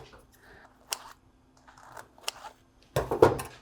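A knife cuts into a baked poolish pizza. Scattered light taps come first, then a loud, crackly crunch of crust near the end.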